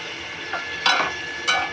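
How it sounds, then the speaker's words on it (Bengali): Small spiced chicken pieces cooking in a pan with a little water added, giving a soft steady simmer-fry hiss broken by three brief scraping stir strokes near the middle and end. "ঘরে একটু সামান্য চিকেন ছিল, এরকম ছোট ছোট করে কেটে একটু মশলা দিয়ে এরকম ভাজা ভাজা করে নিচ্ছি।"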